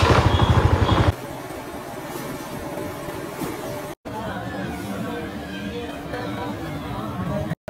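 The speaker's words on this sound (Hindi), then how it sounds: "बाइक स्टार्ट करते हैं।" Motorbike engine in a Pakistani market area, loud low rumble at the start, then a steady running drone with street chatter and traffic noise around it.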